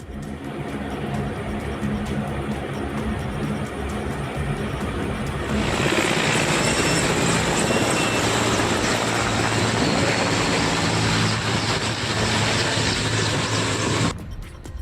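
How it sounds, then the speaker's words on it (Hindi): A military helicopter drones loudly nearby, its rotor and engine roar filling the air steadily and growing stronger partway through before cutting off abruptly. "इसके लिए सेना के हेलीकॉप्टर और विमान सैकड़ों उड़ानें भर चुके हैं।"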